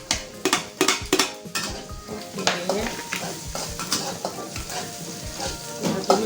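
Garlic and shallots sautéing in a pan for a fish-in-coconut-milk dish, a steady close sizzle broken by repeated clacks and scrapes of a utensil stirring against the pan, with no one speaking.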